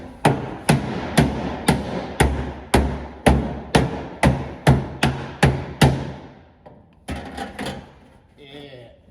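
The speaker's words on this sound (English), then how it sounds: "I think I need to hammer this in a little bit." About twelve loud metallic hammer blows ring out on the body of a 2018 Honda Accord during quarter-panel replacement, at an even, steady pace, followed by a few quicker taps and brief speech.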